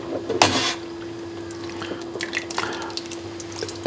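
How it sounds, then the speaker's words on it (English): Beef stock strains through a fine sieve, with a splashy pour at the start followed by scattered, close, light drips and trickles over a steady faint hum. "So when you strain now your beef stock, we just gentle sort of put it through a fine sieve"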